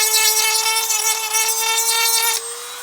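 Rotary power tool grinding a Dragon DML 1/6 action figure, making a loud, steady high-pitched whine with a rough rasping layer while it bites, then easing to a lighter spin near the end. No talking.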